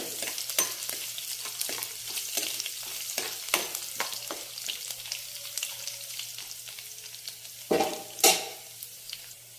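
Garlic frying gently over low heat, a soft sizzle punctuated by frequent clicking stirs of a utensil against the pan, with a couple of louder scrapes near the end.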